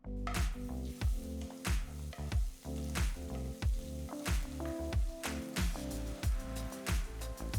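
Red chillies, ginger and garlic fry in ghee and oil in a kadai, giving a busy, wet crackle of rapid pops and squishy spatters that runs steadily and close throughout.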